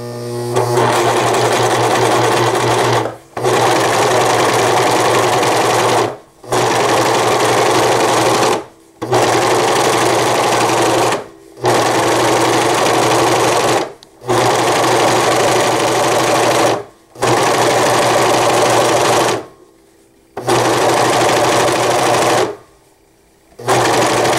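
Serger stitching and trimming fabric for reusable nursing pads with variegated thread, running loud and steady in about eight long bursts separated by brief pauses, no talk.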